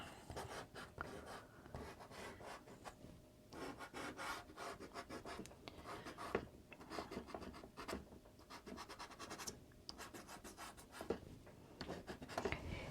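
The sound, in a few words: soft pastel horizontal strokes on paper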